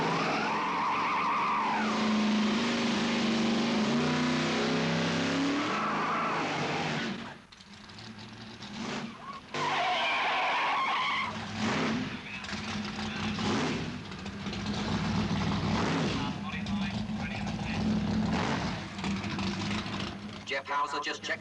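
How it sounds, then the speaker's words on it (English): Modified Dodge 6-pack drag race car idling and rumbling at a 1980s drag strip as it rolls into position for a burnout, with engine swells and lulls under a commentator's talk. "The car is just being signaled into position for the burnout routine"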